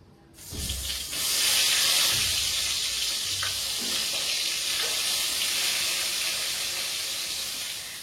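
Eggplant slices fry in hot oil with a loud, steady sizzle that swells up in the first second and then holds close and even, with a few faint knocks in the background and no voices.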